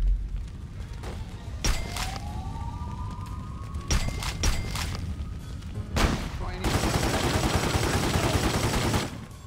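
Gunfire in the Godfather 2 video game, several loud shots and bursts followed by a long dense volley, with a siren-like whine and game noise underneath.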